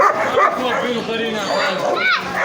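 At an outdoor bird market, a dog barks and yips in quick, near bursts, mixed with whimpering, while people talk over it.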